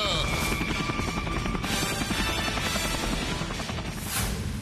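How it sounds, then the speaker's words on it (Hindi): A helicopter in a Hindi cartoon episode drones steadily with a dense rotor and engine roar that fills the whole few seconds at an even, loud level. "हेलीकॉप्टर वहाँ ले चलो"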